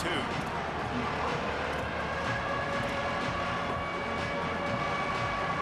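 A packed college football stadium crowd in the Florida Gators' home swamp roars on third down, a dense, sustained wall of noise with a commentator's voice running over it.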